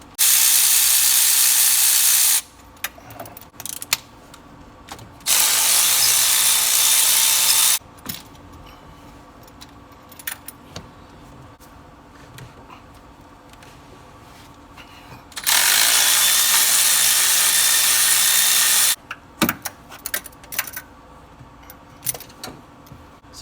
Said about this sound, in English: Now with our spark plug socket, let's go ahead and remove each spark plug out.